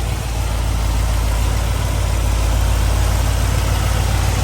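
A 1957 Chevy Bel Air two-door Sport Coupe restomod with a fully dressed V8 and MSD ignition idles close by, a loud, steady, low rumble that holds even throughout with no talk.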